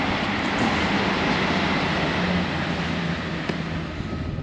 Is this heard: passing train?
yes